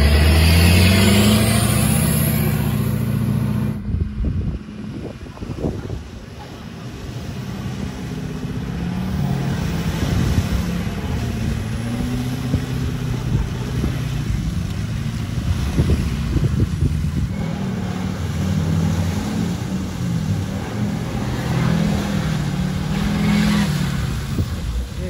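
A Ripsaw luxury tank rumbles and revs as it pushes into deep, nasty mud, its low engine drone rising and falling with brief surges and sloshing, loud and close.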